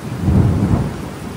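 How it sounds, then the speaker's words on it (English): Heavy thunderstorm on the Appalachian Trail, heard from under an awning. A deep rumble of thunder rolls through steady, dense rain, loud and close throughout the short stretch. "Wow, look at this storm."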